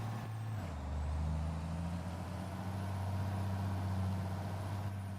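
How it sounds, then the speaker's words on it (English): A heavy truck engine in the video game Farming Simulator 22 rumbles steadily with a deep, droning low end, its Jake brake chugging continuously throughout with no voices. "You ever hear the Jake brakes on this truck?"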